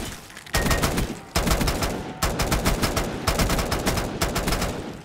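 Rapid bursts of automatic gunfire from a Prick 6 weapon in Black Ops 3 custom zombies, loud and near, in several long sustained volleys separated by brief pauses.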